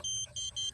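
Three short high-pitched electronic warning beeps from an in-ground dog fence collar nearing the wire, in an even rhythm, faint and close, with a quiet low background hum.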